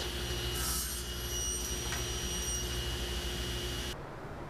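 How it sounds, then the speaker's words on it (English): Table saw cutting wood stock to length against a stop block for staircase parts, a steady loud whirring cut that stops abruptly near the end. "I set up a stop block on the table saw so I could quickly cut them all to the same length."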